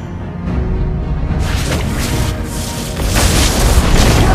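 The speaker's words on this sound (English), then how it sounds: "Your team destroyed the tower." A deep, loud boom as a tower is destroyed in Mobile Legends, a broad rumbling blast that starts abruptly after a moment of low hum and keeps roaring and swelling to the end.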